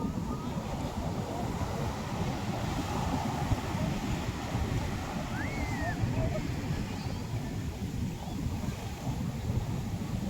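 Rough, muddy sea waves surge up the shore in a steady, continuous wash, heavy with wind rumble and someone talking over it throughout.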